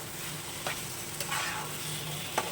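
Spiced pointed gourd (potol) masala fries in a pan, a continuous soft sizzle broken by three or four sharp spoon scrapes and knocks as it is stirred, close by and with no talking.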